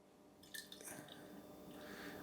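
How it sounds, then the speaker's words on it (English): Beer being poured into glasses: a fizzy, splashing pour with bubbly liquid hiss running steadily for about two seconds, close by, with no voices. "it's looking like it's pouring good"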